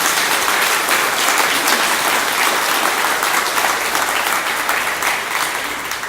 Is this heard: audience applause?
yes